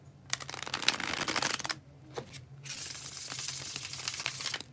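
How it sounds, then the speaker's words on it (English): Playing cards riffled in a bridge shuffle, a close, crisp flurry of rapid flutters in two bursts separated by a brief pause and a single tap, with a faint low hum beneath. "when I do the bridge shuffle, after 3 more shuffles"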